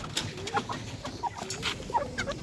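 A hen being fed an egg clucks in short, repeated bursts, fairly faint and close, with soft background noise and no speech.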